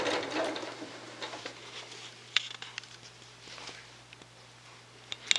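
A sewing machine stitching the start of a curved quilt seam, with a low steady motor hum and soft patter of the needle, close and quiet, with a few small clicks and taps.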